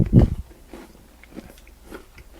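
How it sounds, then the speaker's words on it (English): A bite into a crunchy Santa Claus cookie gives one loud close crunch, followed by softer, quieter chewing at an irregular pace. "While I continue to chew on this very munchy, crunchy cookie."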